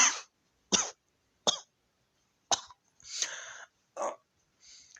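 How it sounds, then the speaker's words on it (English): A woman coughs and hacks in a series of harsh, separate bursts, about seven spasms with short silent gaps between them, close and alone. "coughing and hacking."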